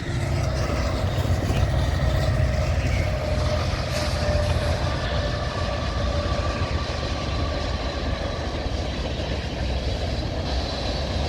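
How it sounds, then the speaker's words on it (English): Norfolk Southern train crossing a bridge in Elyria, Ohio, with a steady, loud rumble of rolling cars and wheels throughout, no talking. "Got a train coming."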